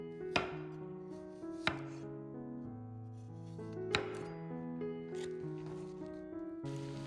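Knife chopping garlic cloves on a board in a kitchen, a few sharp isolated chops spaced apart, close and fairly quiet, with sustained music tones running underneath.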